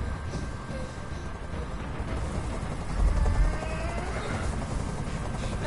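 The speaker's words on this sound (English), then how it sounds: "I can't stand that noise anymore! Tell that helicopter to get out of here!" A helicopter hovers in the video game Detroit: Become Human, giving a steady low rotor drone that swells briefly louder midway and persists throughout under faint background sounds.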